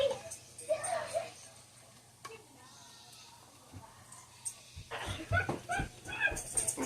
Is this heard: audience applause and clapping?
no